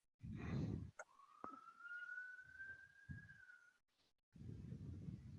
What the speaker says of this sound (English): Is that a siren in one of you guys?